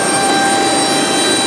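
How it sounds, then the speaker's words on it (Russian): Small passenger airplane at a small airport, its engine giving a loud, steady roar with broad hiss throughout, close by and unbroken, with no talk over it. "Вот такой наш самолетик. Громко."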